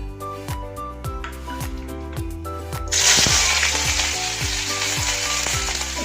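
Onions fry in hot oil in a wok, a steady close sizzle that swells louder partway through, with rhythmic tapping of a utensil stirring throughout.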